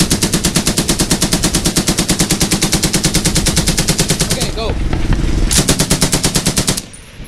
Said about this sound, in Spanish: una ametralladora ligera 762